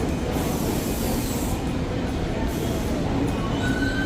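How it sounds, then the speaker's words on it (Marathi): A New York City subway train pulls into a station, its wheels and carriages rumbling loudly and steadily, with a faint metallic squeal near the end. "ही बघा ॲल्युमिनियमचा डब्बा आलेला आहे, आमची रेल्वे आलेली आहे"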